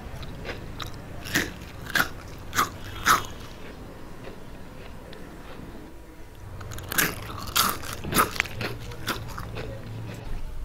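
Close, crisp bites and crunching of crispy fried ribbon pakoda, a Tamil Diwali snack, in two bursts of several sharp crunches each, separated by a quieter pause, with no talking.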